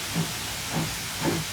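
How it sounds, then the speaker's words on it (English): An LNWR G2 steam locomotive in a train simulator game hisses steadily with steam escaping from its pipes, a constant close hiss with three soft low puffs rising through it. "I also love how they have all the steam exiting out of all these different pipes and whatnot"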